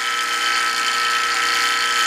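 An HVAC vacuum pump running on old oil while pulling down a vacuum gives a steady, close, loud mechanical whir with a bright, buzzing rattle that holds unchanged throughout.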